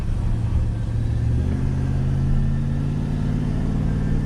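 A Chevrolet Silverado truck with a swapped-in V8 runs on a test drive, a steady low engine rumble with a slight rise in pitch, close and continuous.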